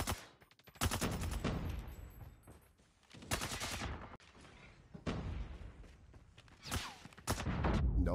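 Gunfire in Call of Duty: Mobile, with several loud bursts of rapid automatic shots separated by brief pauses and quieter background game noise, no voices over it.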